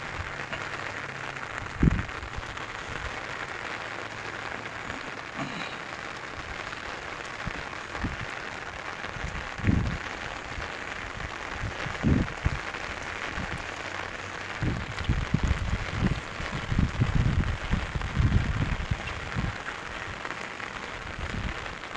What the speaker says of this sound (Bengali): এখনো বৃষ্টি নামতেই আছে